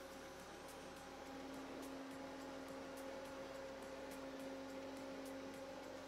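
A direct-to-garment printer prints a T-shirt, giving a steady close-up mechanical whir with a constant tonal hum and faint regular ticks, and the low drone shifts a few times.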